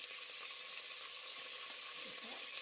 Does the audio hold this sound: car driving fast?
no